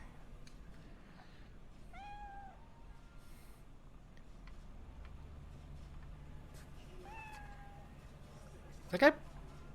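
A cat meows twice in Cyberpunk 2077 on Xbox One, two short rising calls a few seconds apart over a steady game ambience, followed by a brief louder clatter near the end.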